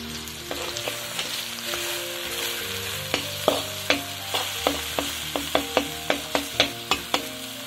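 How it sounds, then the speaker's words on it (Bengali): Grated carrots frying in oil with sugar for gajorer tel, a steady close sizzle under repeated sharp spatula knocks and scrapes against the pan, speeding into a regular rhythm toward the end, no talking. "চিনিটা ভালোভাবে মিশে যাওয়ার পর গাজরের পাশ দিয়ে আবার একটু দিয়ে দিতে হবে তেল"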